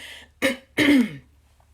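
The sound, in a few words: coughing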